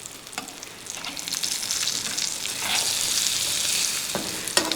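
Fish fries Kerala style in hot coconut oil, a loud, close, continuous sizzle that swells and crackles, with a few spatula knocks against the pan.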